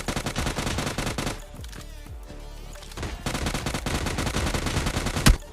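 Rapid automatic fire from a Vector gun in PUBG Mobile Lite: dense continuous bursts of loud shots, a brief lull, then another sustained volley ending in a sharp crack.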